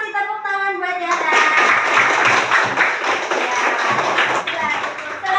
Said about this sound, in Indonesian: Kita kasih tepuk tangan buat Zahra.